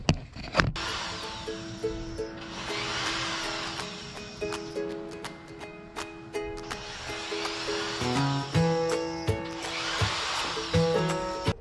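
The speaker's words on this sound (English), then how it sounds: "let me drill these a little bit bigger" A power drill whines in several bursts with brief pauses between, loud and close, enlarging holes for rivet nuts, over a steady mechanical hum.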